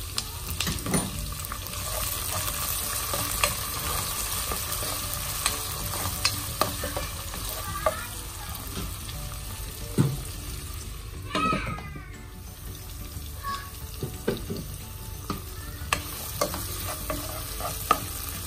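Garlic, onion and tomatoes sauté in a pan for an okra adobo, with steady sizzling and frying under occasional stirring scrapes and utensil clinks, close and continuous throughout.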